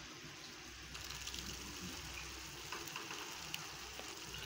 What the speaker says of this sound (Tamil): இதெல்லாம் நல்லா வதங்கி வரட்டும்